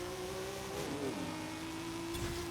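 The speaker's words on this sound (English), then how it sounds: "So I'll pull up, hit the brake, full gas, grab it with the clutch, and launch." Virtual 1600-horsepower Toyota Supra drag build launching from a standstill with launch control in Forza Horizon 5; a sustained engine drone holds, dips briefly, then steadies, fairly quiet and heard alone.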